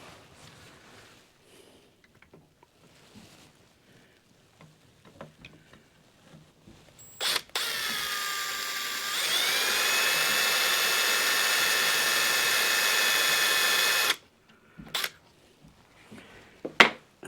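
A power drill bores into a deer skull for a European mount, one close, sustained whining burst of about seven seconds whose pitch steps up partway through, with quiet handling noises before and after.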